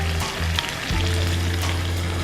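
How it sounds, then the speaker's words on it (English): Buttery curry chicken simmering in a pan, giving a close, steady bubbling and sizzling with a low hum underneath, brief and continuous with no talk. "Let it simmer for about 10 minutes."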